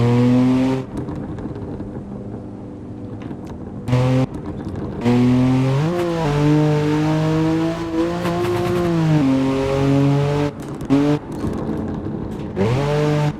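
BMW E93 cabrio in the Assetto Corsa racing game, its engine and exhaust revving loudly through repeated gear changes, rising and dropping pitch with brief cuts between pulls, close and alone without talk.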